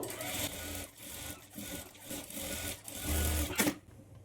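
A sewing machine stitching a blouse runs in close, rhythmic bursts of rapid needle clatter, pausing briefly between runs and stopping abruptly near the end.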